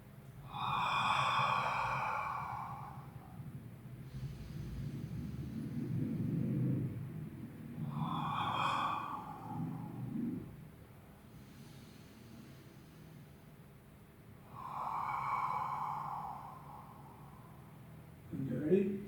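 Slow, deep breathing during Ashtanga yoga, soft airy exhales recurring about every seven seconds, close and quiet in a still room.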